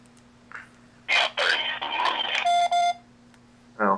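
A telephone rings during a call, with short electronic tones and beeps that break off, then start again, mixed with close, loud chatter.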